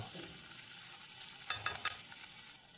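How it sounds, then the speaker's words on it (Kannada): Sliced onions for radish palya frying over a low flame, a soft steady sizzle with a quick cluster of spatula scrapes near the middle, close and quiet. "ಲೋ ಫ್ಲೇಮ್ನಲ್ಲಿ ಎಳೆಯ ಕಾವನಲ್ಲಿ ಇಟ್ಕೊಂಡು ಒಂದು ಅರ್ಧದಿಂದ ಒಂದು ನಿಮಿಷ ಈರುಳ್ಳಿನ ಚೆನ್ನಾಗಿ ಫ್ರೈ ಮಾಡ್ಕೋಬೇಕು"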